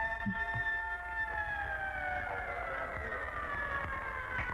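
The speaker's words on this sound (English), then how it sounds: "20 seconds, siren completed." A long, steady siren tone with slowly falling pitch, fairly faint and distant, sounding alone against a low background hum.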